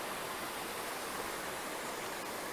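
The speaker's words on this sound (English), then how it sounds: "this is the highest flow you get in this waterfall" Steady, even rush of a waterfall at its peak flow along the Tahoe Rim Trail in Van Sickle Bi-State Park, a continuous broadband roar heard alone without talk.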